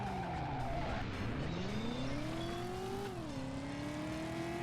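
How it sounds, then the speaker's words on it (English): A handbrake turn in the 1999 PlayStation driving game Driver: a car engine whines up and down in pitch while tyres squeal and skid continuously, loud and close, with no talk. "handbrake turn"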